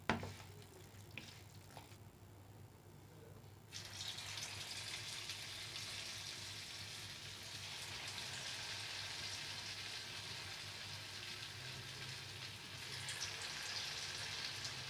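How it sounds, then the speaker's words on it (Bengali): Potato pakoras, for potato 65, frying in hot white oil in a pan: a brief quieter stretch, then a steady, close, loud sizzle of bubbling oil that continues to the end with no talking. "তেলটা গরম হয়ে গেলে আমি আস্তে আস্তে করে পকোড়াগুলো ছেড়ে দেব।"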